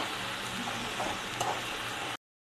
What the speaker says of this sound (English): Let it fry until it becomes smooth and mushy.